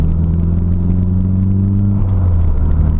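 Differential whine from a Nissan Silvia PS13 with an SR20DET engine, a loud steady tonal drone riding over deep road and engine rumble from inside the moving car, pitch holding then dropping slightly near the end.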